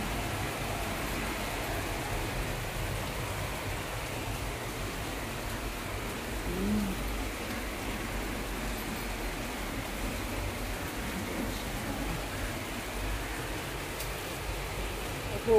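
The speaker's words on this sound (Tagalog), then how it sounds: "Pumapasok yung ulan dito." Heavy typhoon rain pours steadily, a dense, even hiss that fills the whole stretch without letting up, blowing in under a shelter during a signal number 8 storm.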